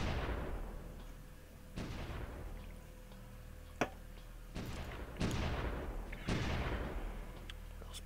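Artillery fire in the Supreme Ruler 2020 strategy game, Poland versus Germany: several heavy booming blasts at irregular intervals, each with a long rumbling decay, plus one sharp crack, all over a low continuous battle rumble.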